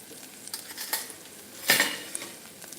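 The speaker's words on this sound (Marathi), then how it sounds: "सगळे मसाले टाकले तेलावरती की थोडेसे परतून घेऊया" Spices being fried in oil in a pan for moong bhaji, with soft sizzling and a few scraping, clinking utensil strokes as the masala is stirred, one sharper clatter midway.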